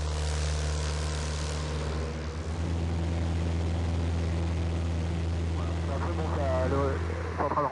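A light propeller plane of a flying club over Méribel drones steadily with a constant engine hum throughout, joined by someone talking near the end.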